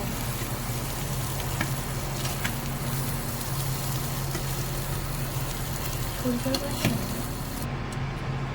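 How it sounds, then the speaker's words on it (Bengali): Soybean chunks frying in oil in a wok, a steady low sizzle with occasional stirring clinks and scrapes, moderately loud and close throughout. "সয়াবিন লাল লাল করে ভেজে নিয়েছি"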